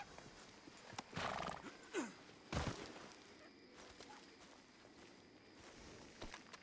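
Horse in the video game Red Dead Redemption 2 neighing with a short whinny, followed by scattered hoof clops and a snort, quiet amid faint ambient game sound.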